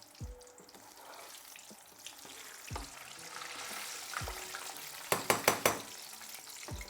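Karaage chicken pieces deep frying in oil, a soft continuous bubbling sizzle with occasional clinks, closing in a quick burst of sharp rattling taps; close and fairly quiet, with no talking.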